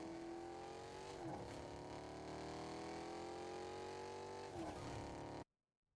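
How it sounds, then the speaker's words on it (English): A muscle car's engine drones steadily in the Fortnite video game, a sustained loud hum with pitch that dips and rises around shifts, cutting off abruptly at the end. "muscle car."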